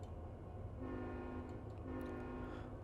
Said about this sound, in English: Not the best sounding horn